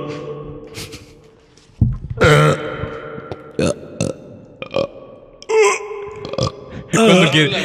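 Several burps in a row, loud and close, between stretches of quiet and short laughing talk, with the later ones longer and rougher.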